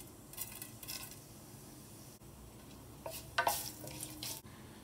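Bay leaves and fennel seeds frying in about three tablespoons of oil in a kadai, giving a faint, soft sizzle with a few light clinks of a utensil against the pan.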